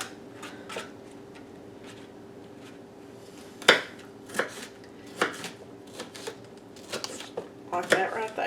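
A knife dices green and colored bell peppers for pickle relish, producing a run of sharp, close chopping knocks that come singly at first and then bunch into quicker strokes.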